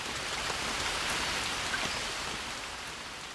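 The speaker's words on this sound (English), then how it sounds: "A sudden change in the weather brings heavy rain and an early end to the flower season." Heavy mid-April rain pours down steadily in a broad, even hiss of many drops striking surfaces, ending the flower season; the downpour stays loud and continuous throughout with no voices.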